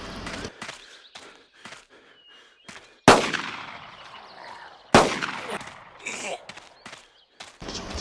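Two loud gunshots in a video game, about two seconds apart, each a sharp blast with a short ringing tail, set among quieter clicks and footstep-like taps.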